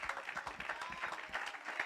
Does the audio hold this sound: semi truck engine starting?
no